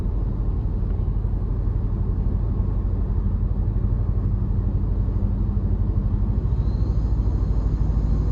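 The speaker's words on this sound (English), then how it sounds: "I love the sound from the snorkel, even the exhaust as well." A 2026 Toyota Tacoma TrailHunter i-Force MAX pickup's engine, exhaust and snorkel give a steady, deep rumble close by, holding an even drone throughout without talk.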